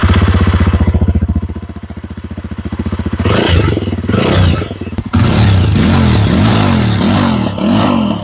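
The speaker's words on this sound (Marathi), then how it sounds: "तुम्हाला मी पहिले एक्झॉस्ट नोज ऐकवतो" A 2023 Yezdi Roadster BS6 cruiser motorcycle's exhaust thumps at a close, loud idle, then revs in several sharp throttle blips that rise and fall.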